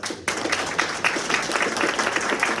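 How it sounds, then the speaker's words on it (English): Audience applause at a school board of education meeting starts abruptly and holds steady as a dense, continuous clapping from a room full of people. "please, another round of applause for"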